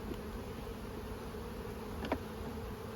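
Honey bees buzz around a hive frame during a hive split, a steady close drone holding for three seconds, with one bee passing briefly louder near the end.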